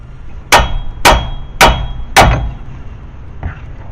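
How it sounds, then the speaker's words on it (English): Aluminum hammer striking a suspension part on a 2006 Volvo S40 to knock it loose: four sharp metallic clangs about half a second apart, loud and close, then a fainter fifth tap. "this aluminum hammer, don't use steel. You're just vibrating it to knock it loose."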